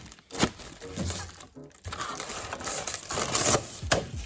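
Protective plastic film is peeled and crinkled off a Pokemon Stadium N64 game box protector, with close, loud crackling and rustling that comes in irregular bursts and nearly continuous handling noise.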